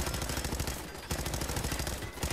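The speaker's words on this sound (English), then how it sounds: "Bullets still come through." Rapid automatic gunfire in Fallout 4 rattles in a dense, continuous burst of close shots, dipping briefly before resuming at full loudness; no talk over it.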